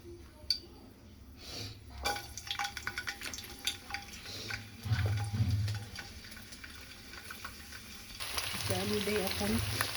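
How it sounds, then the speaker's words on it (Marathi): Onion, green chilli, garlic and ginger fry in a pan with a soft steady sizzle, broken by clinks and scrapes of stirring and utensils, and the frying swells louder near the end. "आता हे मस्त तांबूस होईपर्यंत भाजून घ्यायचं कांदा."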